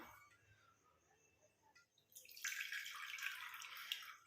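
Strained tea decoction pouring through a filter after cooling, a steady close splashing trickle of liquid that starts abruptly midway and continues, preceded by near silence.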